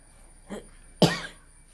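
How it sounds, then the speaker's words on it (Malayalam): A single sharp cough sounds close by, preceded by a softer short throat sound, with quiet room air around it. "ചുമയാണ്"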